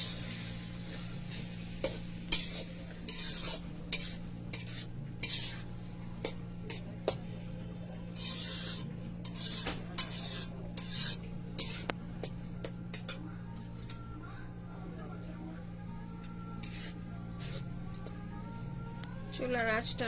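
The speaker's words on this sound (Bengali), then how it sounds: "এখন আমি এটাকে ভাজা করবো।" Vermicelli is stirred and fried in ghee in a pan over medium-high heat, with a continuous low sizzle broken by repeated scraping and clinking strokes of a utensil against the pan, and a voice talking intermittently over the cooking.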